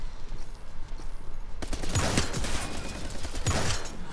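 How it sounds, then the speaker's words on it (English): The Tremor gun firing in the video game Armajet, a rapid, rattling burst of shots that starts partway through over a steady game-noise bed, with a couple of heavier thumps within the volley. "The Tremor is my gun."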